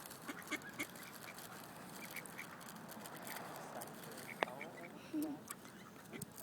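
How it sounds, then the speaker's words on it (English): Ducks at a pond being fed crackers give scattered, faint quacks and honks over soft outdoor background noise, with a few sharper calls near the end. "So we're feeding the ducks"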